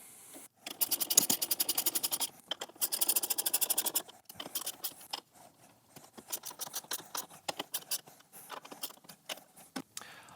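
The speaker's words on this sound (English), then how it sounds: "And we'll go ahead and secure that lid down with a 1/2 inch ratchet." A half-inch ratchet tightens bolts on a battery tray lid in a 2nd-gen Tacoma dual battery kit, sounding as rapid bursts of close, crisp clicking separated by brief pauses and irregular taps.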